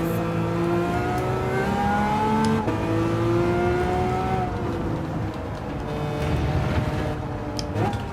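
A Lamborghini Countach in Gran Turismo 7 revs hard through the gears, its engine whine climbing in pitch and dropping sharply at each shift, loud and continuous from up close.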